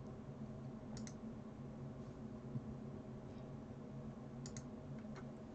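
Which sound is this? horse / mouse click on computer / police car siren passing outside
mouse click on computer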